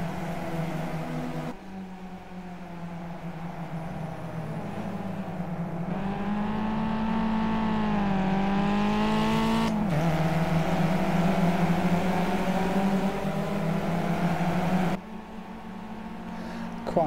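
The engine of a Caterham Seven Classic race car in Project Cars at Oulton Park drones steadily in a continuous in-car whine, rising in pitch as it revs and dropping at each gear change, with no voices.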